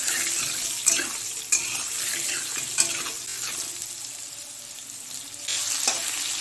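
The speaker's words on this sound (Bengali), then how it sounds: "দিয়ে একটু ভালো করে ভেজে নেবো আলুগুলোকে।" Potatoes frying in oil with panch phoron, a continuous close sizzle broken by several sharp stirring knocks and scrapes against the pan, no talking.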